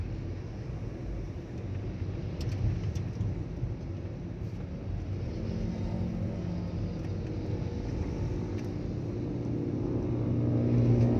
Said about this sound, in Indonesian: Kita biarkan yang motor turnya itu jalan dulu ya teman-teman ya